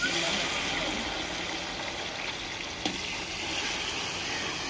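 Tomato and chilli hit a pan of frying onions for a crispy pulao, producing a loud, continuous close sizzle. A brief clatter sounds midway, and faint talk may sit underneath.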